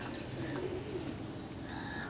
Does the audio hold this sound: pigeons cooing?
yes